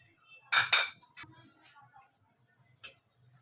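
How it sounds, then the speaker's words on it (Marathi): A cheese sandwich is set onto a plate with a couple of close, sharp ceramic clinks, then a single lighter clink after a short pause in an otherwise quiet kitchen. "मी ना एका प्लेटमध्ये काढून घेते सँडविच"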